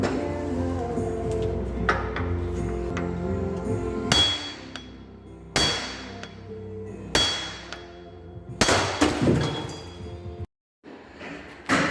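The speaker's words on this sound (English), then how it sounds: "I'm gonna smash this end with another hammer and it should pop it out" Several loud metallic blows ring out at irregular intervals as a hammer strikes another hammer to knock out a Toyota front wheel bearing, metal striking metal, with a steady low hum running underneath.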